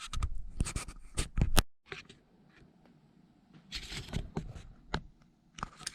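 Quilt fabric being recut at close range, with a rotary cutter or scissors making short scraping strokes and rustles of cloth, in irregular bursts separated by a brief quiet pause.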